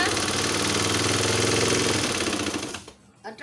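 Sewing machine stitching stretched elastic into a child's trouser waistband, running steadily in a close, loud, continuous whir for nearly three seconds before stopping abruptly.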